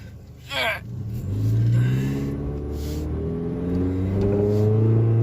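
A 2002 PT Cruiser with an automatic transmission accelerates down a road, engine rising in pitch, dropping as it shifts, then climbing again, heard from inside the cabin.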